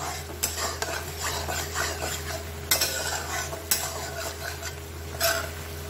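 A spatula stirs paneer butter masala paste as it fries in oil. Repeated sharp scrapes and taps against the pan ride over a continuous sizzle, with no voices.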